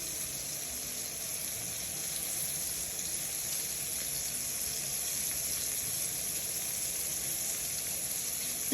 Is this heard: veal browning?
yes